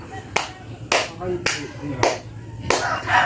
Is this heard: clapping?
yes